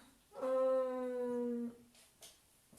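A sleepy dog gives a single drawn-out whimpering whine, a high tonal cry lasting just over a second, close and fairly quiet in a calm indoor room, followed by faint rustling.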